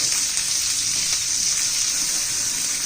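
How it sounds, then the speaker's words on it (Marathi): Field beans (pavta) sautéing in a pan with a steady, close sizzle and crackle that runs unbroken for a few seconds, with no voices. "पावटा मी चांगला भाजून घेतलीये परतून घेतलीये"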